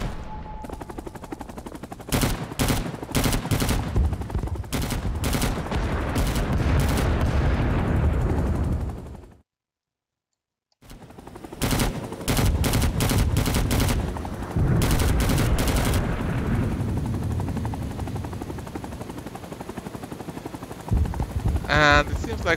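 A helicopter in Rising Storm 2 drones steadily while its machine gun fires in repeated loud bursts with scattered explosions. A short silent gap breaks the sound before the bursts resume, with voices talking over the action.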